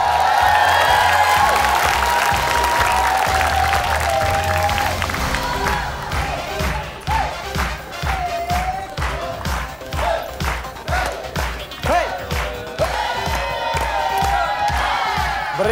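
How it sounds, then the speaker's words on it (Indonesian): A studio audience on the Indonesian game show Family 100 cheers and whoops for a team, then breaks into loud, rhythmic unison clapping before the cheering swells again, close and lively. "tepuk tangan yang meriah buat yang ganteng-ganteng"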